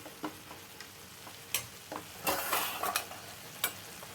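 A spoon stirs tomato masala for potato kurma in a pan, with scattered scraping taps and a brief louder burst of sizzle partway through, close and fairly quiet, no talk.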